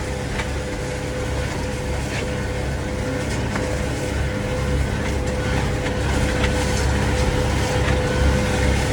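A tractor engine runs steadily out in a field after dark, a constant low drone with a faint whine, holding even and near throughout with no voices.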